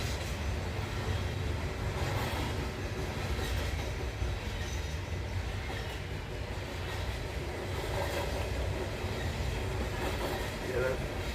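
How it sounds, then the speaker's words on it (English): A train rolls past on a track close by, a steady rumbling roar with clattering wheels that runs the whole time, loud and near, with no clear speech over it. "there's a train track right beside us"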